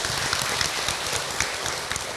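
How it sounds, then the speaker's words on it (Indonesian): An audience of mothers at an Islamic sermon gathering gives a round of applause, dense continuous clapping at an even level throughout with no talking over it. "Tepuk tangan ibu untuk Hilman"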